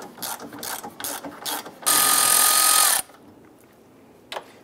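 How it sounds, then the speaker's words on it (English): A ratchet with a 10 mm socket loosens an upper bolt on a Dodge Ram A/C condenser fan: a string of quick clicking strokes, then a second of loud steady whirring, then near quiet with one last click. "Use your 10 millimeter socket. Loosen this upper bolt."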